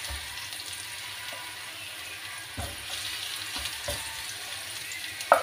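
Garlic and ginger sizzle steadily in a hot pan, a soft even hiss with a few light knocks of a spoon stirring, no talking.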